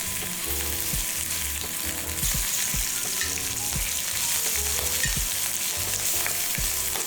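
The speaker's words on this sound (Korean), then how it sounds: "그리고 뜨거운 팬에 새우를 익혀줄게요." Shrimp sear in a smoking-hot pan, a loud, continuous crackling sizzle with sharper pops and the scrape of stirring, alone without voices.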